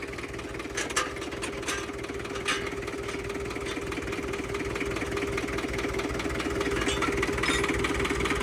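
An old tractor engine runs at a steady idle close by, a low chugging drone with a few sharp clicks and knocks near the start.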